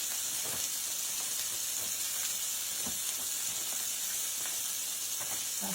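Cube steak sears in a little oil in a pan with a constant, bright sizzle and hiss, small pops scattered throughout, no speech.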